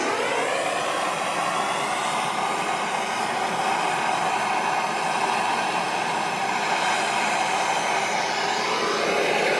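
Steady loud roaring hiss of a heat gun or torch aimed at a stuck part on a 1947 International KB3 farm truck, continuous and close throughout with no talking.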